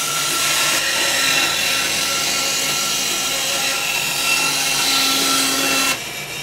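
A bandsaw whines steadily as it cuts through wood, a loud continuous buzzing rasp that drops off abruptly near the end.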